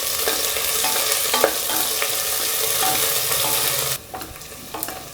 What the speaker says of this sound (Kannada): ಕಟ್ ಮಾಡಿರೋಷ್ಟು ಮೀಡಿಯಮ್ ಸೈಜ್ ಈರುಳ್ಳಿ ಹಾಕ್ಕೊಳ್ಳಿ. ಹಾಕ್ಕೊಂಡು ಚೆನ್ನಾಗಿ ಹುರ್ಕೋಬೇಕು ಈರುಳ್ಳಿನ